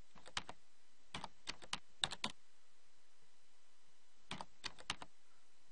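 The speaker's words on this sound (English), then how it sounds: "type in their name and ID" Quiet clicks of typing on a computer keyboard, coming in a few short clusters of keystrokes with silent gaps between them.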